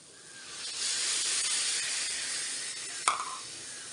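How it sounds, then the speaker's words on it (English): Milk hits hot sautéed grated carrots in a pan, setting off a loud, steady steaming hiss that swells and holds for several seconds, with a brief bubbling pop near the end and no talking. "We will add the milk in it now"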